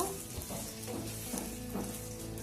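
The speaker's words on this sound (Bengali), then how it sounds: "এবার আমি নেড়ে দিব" Amla pickle being stirred in a pan as it cooks, a steady close sizzle with soft scraping strokes of the spoon repeating every half second or so, no voices.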